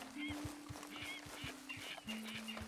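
Birds calling in the Red Dead Redemption 2 video game, a series of short quacking or honking calls repeating at a fairly distance over a steady low hum of game ambience.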